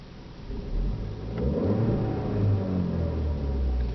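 A 2012 Volkswagen Beetle engine revs up and holds a steady rumbling drone, rising and falling slightly in pitch, close by with no voices.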